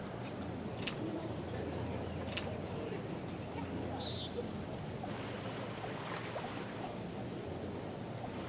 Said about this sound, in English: It is a windy day out here, Frank.